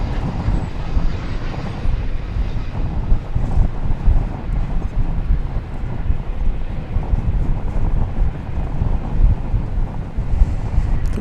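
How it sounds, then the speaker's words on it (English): Loud, gusty wind buffets the microphone outdoors at DFW Airport. A constant low rumbling roar swells and eases in uneven surges for the whole stretch, and no voices are heard. "Wind is just gusted up here."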